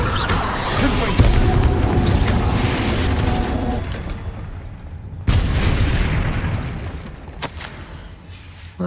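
Confringo blasting spell explosions in Hogwarts Legacy, two loud booming blasts about four seconds apart, each followed by a decaying rumble over dense game noise.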